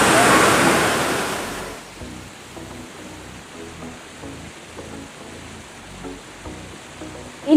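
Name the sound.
Chitre waterfall near Kalimpong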